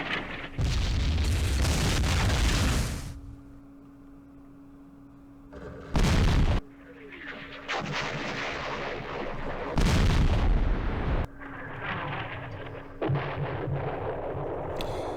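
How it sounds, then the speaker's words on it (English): Artillery fire from the Vietnam War strategy game Campaign Series Vietnam, Battle of Ba Ria 1968: several loud, heavy booming barrages with low rumbling between them. No voices. "We should get good hits here with our artillery."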